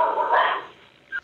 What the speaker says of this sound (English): there were dog barkings detected by the camera